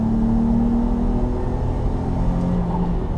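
A 2019 Dodge Charger GT engine drones steadily under acceleration, a continuous low rumble with a rising tonal whine heard from inside the cabin, with no talking.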